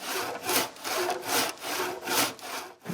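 A hand saw cuts through wood for a firewood shed at a cabin, steady back-and-forth strokes rasping close and loud in an even rhythm of about two strokes per second, with no voices.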